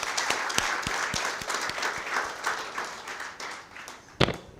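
Applause from a ceremony audience for young school performers, a soft scattered patter of claps with a few sharper individual claps and one louder clap near the end.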